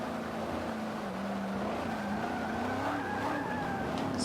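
Tires of a Z06 Corvette squealing as the car slides through a turn in the Forza 5 racing game, a steady wavering screech laid over a continuous engine drone, loud and unbroken throughout.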